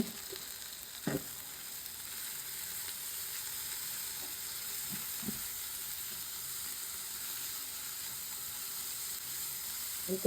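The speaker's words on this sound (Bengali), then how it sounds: "মশলাটা দিয়ে খুব ভাজা ভাজা করতে হবে" Spices for an egg stir fry sizzle in olive oil in a pan, a steady close frying hiss with a few soft thumps of stirring and no speech.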